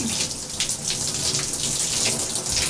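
Simulated tropical rain, a steady broadband hiss like water pouring and splashing, continuous and fairly loud throughout with no voices.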